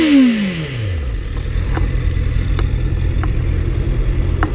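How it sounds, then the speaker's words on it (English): A 2014 Honda CB650F inline-four motorcycle on its standard exhaust opens with a quick rev that falls away, then settles into a steady close idle with light mechanical clatter. "Let me give it a little rev for you guys."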